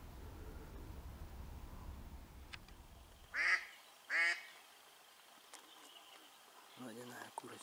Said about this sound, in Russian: Водяная курочка.